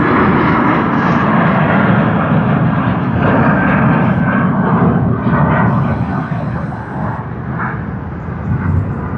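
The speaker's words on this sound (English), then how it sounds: "Oh, we have another Jetstar that just took off." Jetstar jet airliner taking off at Sydney Airport, a loud, steady broadband engine roar filling the whole stretch, slowly easing off near the end as the plane climbs away.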